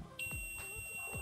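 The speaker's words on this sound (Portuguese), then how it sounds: "A escala que a gente encosta as pontas, ele bipa." A multimeter set to diode continuity mode gives a steady, continuous high beep that starts abruptly and holds on, near and clear, over faint low background noise while testing a homemade LED solar panel.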